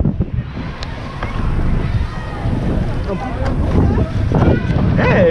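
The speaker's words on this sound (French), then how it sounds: "il y a énormément de vent" Strong wind roars and buffets steadily on a roller coaster ride at an amusement park, a loud, gusty rush filling the whole stretch with brief surges toward the end.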